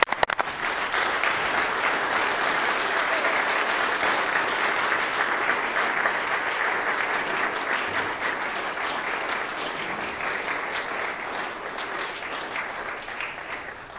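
Applause in the Manitoba legislative chamber, members clapping together in a full, steady burst lasting well over ten seconds, evenly loud before easing slightly toward the end, with no talk over it.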